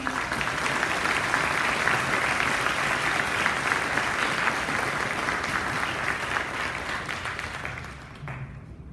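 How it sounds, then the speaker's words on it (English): Sustained applause from a graduation audience at a school ceremony, steady dense clapping for about eight seconds before it thins and fades near the end. "Can I have a round of applause to congratulate"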